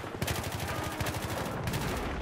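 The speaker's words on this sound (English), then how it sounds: "Throw a grenade." Rapid gunfire in Battlefield 3 crackles in dense bursts alongside a grenade explosion, loud and close, with a short pause before the shooting resumes.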